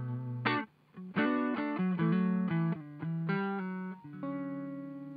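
An electric guitar plays with a clean tone through a Marshall Origin 20 amplifier with a Danelectro delay in the effects loop, with several strummed chords and picked notes ringing out in quick succession, close and clear, with no talking.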